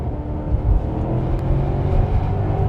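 A 440-horsepower Maserati accelerates out of a sharp corner in first gear, its engine giving a deep, steady, loud rumble heard from inside the car.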